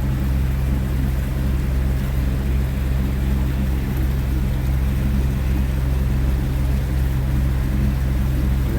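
Shanty boat motoring along at about 5 knots, a steady low engine drone with continuous water and hull rumble, close and unbroken throughout with no voices.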